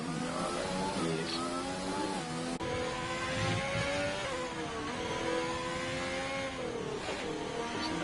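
A race car engine revs and drones steadily at close range during a Vietnam circuit race, pitch rising and dipping through gear changes with no break in the sound.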